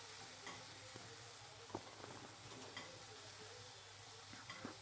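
Crispy fried chili potatoes are stirred in a pan with tomato ketchup, a soft steady sizzle with faint scraping of the spoon, quiet and continuous with no talk.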